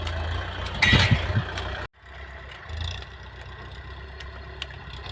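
A tractor engine idles with a steady low chug, and a brief louder burst of noise comes near the start.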